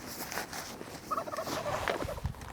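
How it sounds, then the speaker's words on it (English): A wild turkey gobbles from some distance, a brief rapid warbling burst heard outdoors over faint background noise, with no talking during the call. "Gobble, gobble, gobble. I think I see you now."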